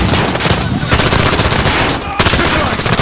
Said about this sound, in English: The gunshots, of course.